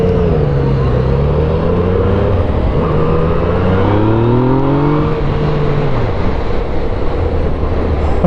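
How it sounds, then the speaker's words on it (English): A 2017 Yamaha FZ-09 motorcycle accelerating on a road in traffic, its engine note climbing steadily and loud throughout, with rising harmonic sweeps over a constant rumble of road and wind noise. "accelerating this thing is just effortless"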